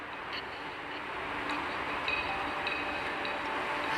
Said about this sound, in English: why does it feel like we've been on this train for a while?